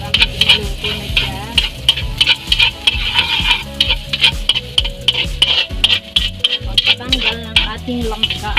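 Chopped ginger sautéed in hot oil in a pan for Bicolano bopis (kandingga): a steady, close sizzle with scraping stirs and clinks of a utensil against the pan, over faint background music.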